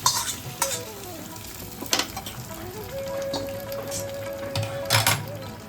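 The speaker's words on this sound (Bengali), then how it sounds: "এদিকে ঘিয়েতে তেজপাতা আর 5 ফোড়নটা যে ফোড়ন দিয়েছি সেইটা দিয়ে দিই।" Bay leaf and five-spice seeds sizzle in hot ghee, a continuous close crackle broken by several loud spoon clanks and scrapes against the pan, with a faint tonal whine in the background.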